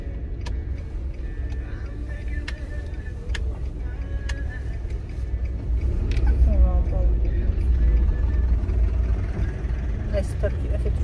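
Heavy road traffic surrounds a car in motion, a continuous low rumble of many vehicles that swells midway as something louder passes, with faint squeals and tones above and a voice talking over it.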